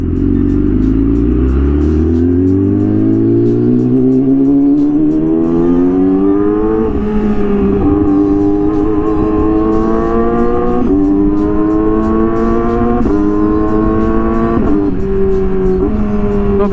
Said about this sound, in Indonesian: Itu yang dinamakan downshift atau auto blipper